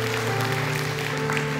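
Worshippers applaud during a Sunday church service, steady close clapping under a sustained musical tone from an organ or keyboard, faint and brief.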